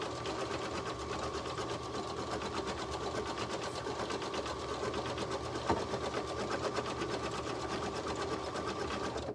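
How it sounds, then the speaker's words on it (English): An embroidery machine stitches an in-the-hoop notebook cover, a steady rapid mechanical chatter that runs unbroken at a close, even level with no talking. "this way you can stare at the machine stitching and not at my face"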